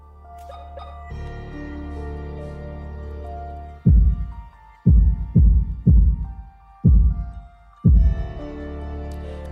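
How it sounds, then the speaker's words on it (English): A deep, booming heartbeat in the Silent Hill 2 Remake pounds in a grouped pattern of five heavy thuds, each decaying, after a droning musical hum that returns at the end. "let's listen to the code of this thing's heartbeat"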